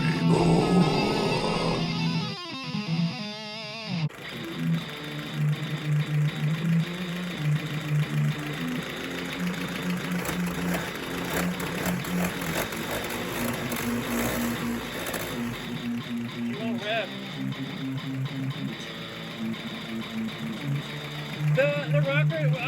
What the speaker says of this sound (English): It doesn't have that lopey idle anymore.